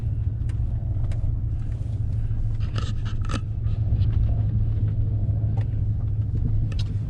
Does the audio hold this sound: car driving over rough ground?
yes